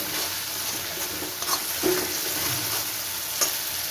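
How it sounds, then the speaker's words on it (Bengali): Spice paste sizzles steadily as it sautés in a pan, close up, with soft stirring scrapes breaking into the continuous frying hiss. "এটা আরও 2-3 মিনিট আমি কষিয়ে নেবো এইভাবে।"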